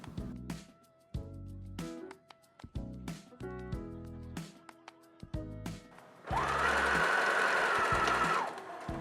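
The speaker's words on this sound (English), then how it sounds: "press and top stitch along that outer edge" A sewing machine top stitches along the outer edge of a pair of overalls, giving a series of short, close mechanical bursts and clicks and then one long, loud, steady run of stitching lasting about two seconds.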